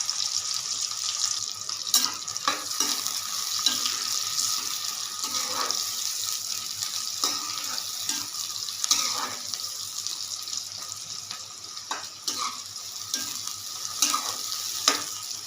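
Onions frying in oil for chicken karahi crackle and sizzle steadily close by, broken by scattered stirring clicks and taps throughout.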